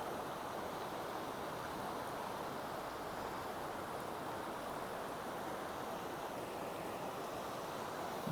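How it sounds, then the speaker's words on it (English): A river on the High Sierra Trail flows with a broad, steady rushing wash of water, constant and fairly soft, with no voices. "This is a beautiful river here."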